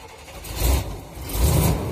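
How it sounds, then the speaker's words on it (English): A 1977 Chevy motorhome engine, a 500 short block, cranks and catches in two close surges, rising from quiet to a loud rumble with no talking. "cool if it started on the first time."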